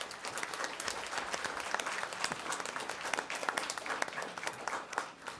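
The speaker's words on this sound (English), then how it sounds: "Clap your hands for them." Sustained audience applause at a school district board meeting honoring an elementary school, dense steady clapping throughout with no voices on top.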